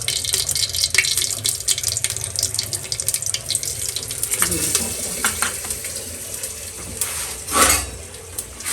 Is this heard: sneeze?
no